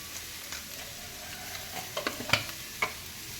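Chilies and fennel seeds sizzling in hot oil, a faint low crackle broken by a few sharp pops and clicks, with no talking.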